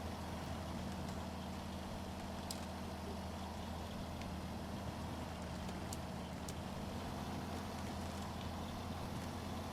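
A heavy truck in the Snowrunner video game grinds through rough off-road terrain, its engine droning low and steady throughout, loud and close, with a few faint clanks on top and no voices.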